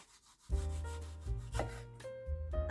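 A knife slicing through a mango cheek, giving close, soft rubbing and cutting strokes in a few steady passes on a quiet background.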